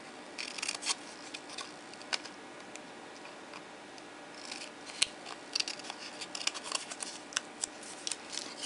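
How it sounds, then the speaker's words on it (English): Scissors snip through paper flower petals in a series of small, quiet, irregular crisp cuts and ticks with no talking, close and faint over low room noise. "And this time you're going to cut off 2 of the petals."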